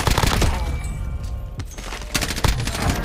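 Rapid bursts of gunfire crack out in a Warzone match, close and loud, with several quick volleys and a heavy report in the middle over about three seconds.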